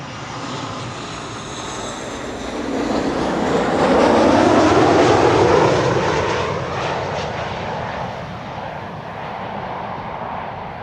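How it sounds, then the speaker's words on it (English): A Transavia Boeing 737-800 arriving from Barcelona at Amsterdam Schiphol passes overhead, its engine roar building to a loud broadband peak with a descending whine, then receding into a lingering rumble, with no voices. "This is Transavia flight 5132 arriving from Barcelona in España,"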